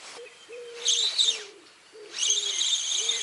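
Soft, low cooing notes of a wood pigeon repeat in a steady phrase nearby, while brighter chirping birds sing over it in two bursts.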